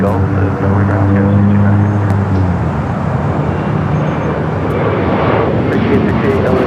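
A United Airbus A321neo jet at LAX gives off a loud, steady broadband roar that holds for several seconds, with a few tonal engine lines early on and no quiet gaps.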